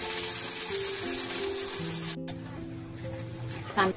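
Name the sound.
onion frying in a pan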